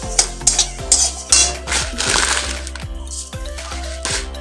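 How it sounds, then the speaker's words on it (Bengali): Coriander seeds dry roasting in a pan for homemade pickle spice, giving sharp irregular crackles and pops with clinks and scrapes of stirring over a few seconds. "ধনেটাকে ভেজে নিচ্ছি"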